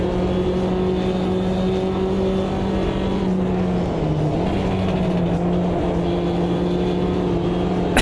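Race cars revving in the Automobilista 2 racing game, with steady loud engine drone and pitch shifts as several cars jostle close together, continuous throughout with no talk.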